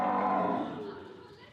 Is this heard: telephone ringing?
no